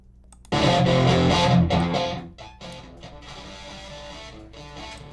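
A dense, distorted music passage runs through the Airwindows Density plugin set to its 1 minus cosine curve, starting abruptly loud and then settling into a thinner, starved sustained mix with no talking.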